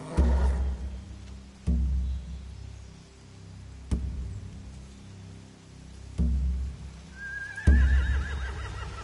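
Horses in The Walking Dead video game neigh and whinny several times, separated by thuds and movement, with a final higher whinny near the end.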